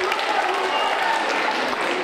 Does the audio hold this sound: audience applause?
yes